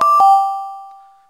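A Windows 8 alarm chime: two bright, bell-like tones struck in quick succession, ringing clearly and alone before fading smoothly away over about a second.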